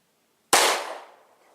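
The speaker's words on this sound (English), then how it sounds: "It's not the easiest pistol to shoot" A single sharp pistol gunshot at a shooting range cracks loudly out of silence and rings off in a short decaying echo.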